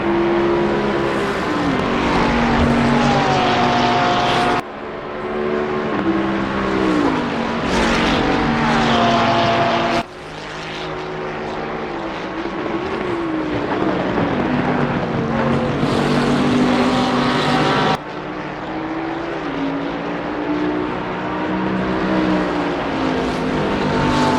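Race cars at full speed on the Barcelona circuit, loud continuous engine drone with rising and falling pitch as they pass and shift gears, several cuts between passages, no talk.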